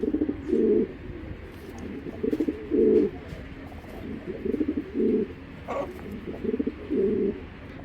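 Racing pigeons coo in repeated rounded bursts, several close calls in an uneven rhythm over a faint background hum, with no talk.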